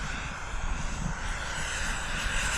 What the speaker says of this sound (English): There's a nice high-speed pass and pulling tight there near the end.